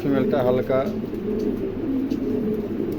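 A pair of black Pomeranian pigeons coos in soft, low repeated throaty rolls close by, with a voice speaking briefly at the start.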